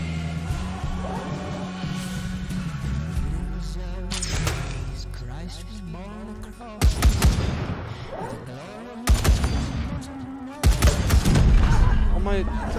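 Gunfire in the turn-based combat game Wasteland 3: several loud separate bursts of shots in the second half, spaced a few seconds apart, with people talking throughout and game music and effects underneath.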